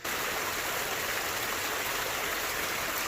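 Water pouring steadily down a backyard waterfall into a koi pond, a loud, constant, close rushing hiss with no voices.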